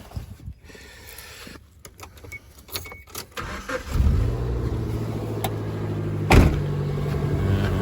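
A Suzuki Jimny rescue car is started with a key: keys jangle and clicks sound first, then the engine cranks and catches around midway, settling into a steady close idle with one sharp rev bump.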